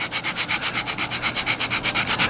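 Epoxy is sanded off a car body corner in rapid, even back-and-forth strokes, loud and close, with no voices.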